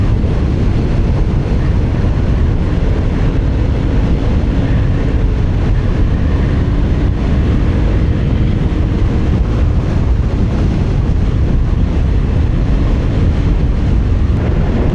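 Constant wind rushes past the microphone on a riding Yamaha XMAX, a loud, steady roar with a low buffeting rumble that never lets up.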